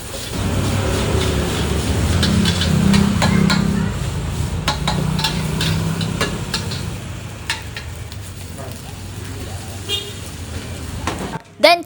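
Metal scraping and clinking as rice is stir-fried in a wok over a steady sizzle, with a busy background rumble throughout.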